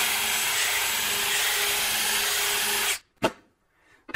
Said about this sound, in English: And then I'll drill through with the pilot drill.